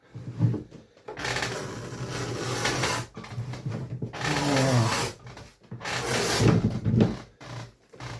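A waxy leather hide is pushed through a strap cutter, producing three long, loud rasping scrapes close up, each lasting a second or two, separated by brief pauses.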